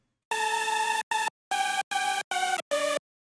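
A Trompeta hardstyle lead synth layer made in Spire plays six short, bright, buzzy notes in a choppy rhythm with clean gaps, played alone with no voice.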